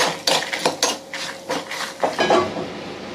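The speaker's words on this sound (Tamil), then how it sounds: "இந்த பக்கம் ஒரு கடாயை வச்சாச்சு" A metal kadai (wok) being set down and shuffled on a stove in a home kitchen, a few close, sharp clanks and scrapes in quick succession, with no talking.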